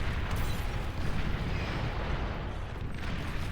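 Bomber explosions in the strategy game Beyond All Reason come as a dense, continuous rumbling roar of overlapping blasts, steady and loud throughout with no clear gaps.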